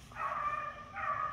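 Rabbit hunting dog barking somewhere outdoors, two faint drawn-out bays heard from a distance, with quiet background between them.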